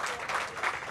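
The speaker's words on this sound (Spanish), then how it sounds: "creo que hay que aplaudir fuerte, apoyar a los compañeros y a la compañera" A brief burst of clapping from a crowd at a Thursday march of the Madres de la Plaza, dense and steady for about a second.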